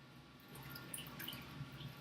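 Water draining through the screen of a paper-making deckle held over a pan, with faint, steady trickling and dripping up close.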